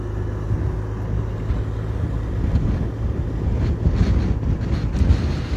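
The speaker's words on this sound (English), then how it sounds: "it's very windy out here" Strong, steady wind buffets the microphone outdoors at a tropical cycling road race, a constant low roar with gusts swelling louder toward the end, no voices.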